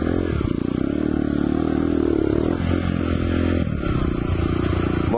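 A Husqvarna 125 SM supermoto motorcycle, fitted with a newly changed clutch, drones steadily and loudly throughout the ride, with a constant engine hum and some clattering.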